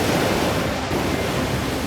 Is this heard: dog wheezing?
no